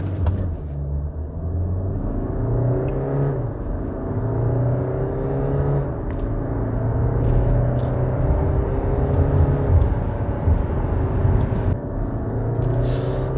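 A Land Rover Discovery Sport SUV pulls away from a standstill in a 0–100 test, its engine climbing smoothly through several rising gear sweeps toward the redline, steady and close, with no voices over it.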